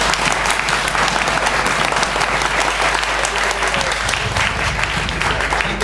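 An improv festival audience in Toulouse claps loudly and continuously to vote by applause meter, a thick, unbroken wash of hands with no shouting, carried over a low hum.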